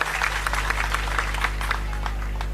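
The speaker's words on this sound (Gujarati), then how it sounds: "આપણે ફરીથી એમને તાળીઓથી વધાવીએ." Applause from an audience at an outdoor public political rally in Gambhu village, with dense overlapping clapping sustained steadily over a low steady hum, no speech.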